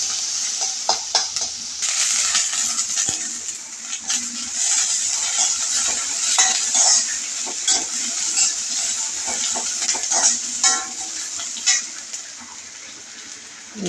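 Green chilies stir-fried in a pan for a home Sunday meal: a steady, close sizzle with repeated scraping and stirring strokes throughout, no talking.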